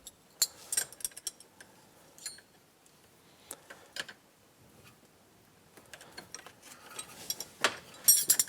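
A Yamaha YXZ1000R parking brake lever ratchets through its notches during a brake pad change and adjustment, giving a series of sharp, irregular metallic clicks and ticks up close, growing busier and louder toward the end.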